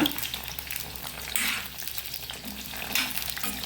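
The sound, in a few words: brinjal frying in oil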